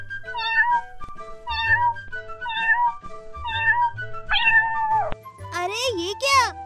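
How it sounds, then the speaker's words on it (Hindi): A cartoon cat meows repeatedly in a steady rhythm, about five short mewing calls, followed by a longer, wavering, higher cry at the end, fairly loud and close in a kids' animated animal-sounds setting. "अरे ये बिल्ली की आवाज कहाँ से आ रही है?"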